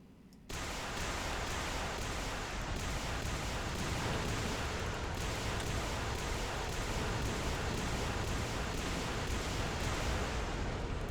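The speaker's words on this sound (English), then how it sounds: "There's even Lars rocket artillery systems in here." LARS rocket artillery firing in the game Men of War: Assault Squad 2 with the Red Rising mod: a sudden, loud, dense roar starts and keeps rumbling without a break, like a sustained rocket salvo.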